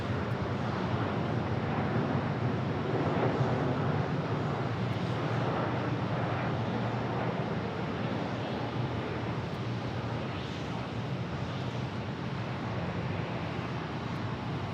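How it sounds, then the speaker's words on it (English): A FedEx Boeing 767 at Sky Harbor Airport, a steady broad jet roar with wind buffeting the microphone, fairly constant throughout. "there's a FedEx 767"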